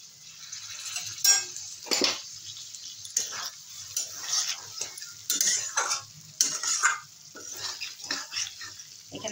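Tomato and capsicum fry in oil for a Bengali eggplant-in-milk dish, producing a soft sizzle under repeated clinks and scrapes of a utensil against the pan, in irregular bursts, with no speech.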